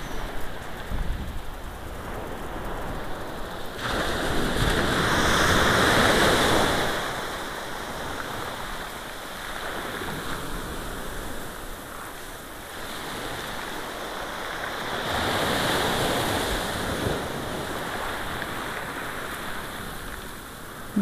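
Waves wash in and recede along a shoreline on a winter beach walk, a broad hissing surge swelling twice and easing between, steady and fairly close, with no voices.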